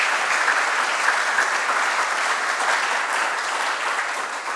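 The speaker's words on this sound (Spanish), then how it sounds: "También para ellos un fuerte aplauso y sean muy bienvenidos." An audience at a book launch gives strong, continuous applause, an even wash of many hands clapping at once that holds steady throughout.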